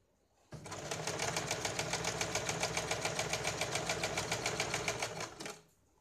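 A sewing machine runs steadily for about five seconds, its rapid even stitching rhythm loud and close, laying a double row of stitches on a katori blouse before stopping abruptly.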